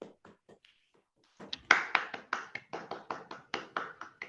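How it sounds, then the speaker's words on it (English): A small group claps at the end of a discussion session, a few scattered taps at first, then a steady run of about a dozen close, sharp claps. "I think a good clap for all of us."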